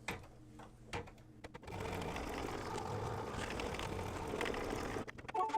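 An embroidery machine runs steadily, stitching a placement line on fabric with a fast, even whirring hum after a few short start-up clicks, close and moderately quiet, no speech.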